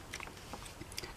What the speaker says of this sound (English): I'm going to cut this corner here.